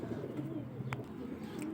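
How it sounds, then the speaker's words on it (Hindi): Soft low cooing of pigeons, a brief murmuring call close by, with a faint click or flutter partway through. "प्योरिटी में उस्ताद मियां नज़ीर वाले कबूतर हैं।"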